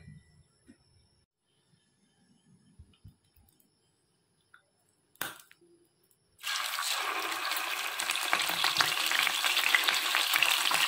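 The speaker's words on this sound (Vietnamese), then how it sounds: "Rán vàng cá rồi mới om được." Climbing perch fried golden in a pan: after a few quiet clicks and a sharp clatter, a loud, dense sizzle erupts suddenly and continues steadily to the end.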